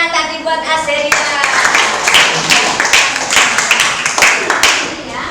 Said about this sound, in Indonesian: Ya, tepuk tangan tadi buat Azeria.